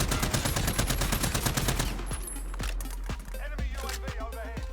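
Rapid automatic gunfire from a Cold War weapon in the Warzone video game, loud and continuous at first, then breaking into separate shots with ringing echoes.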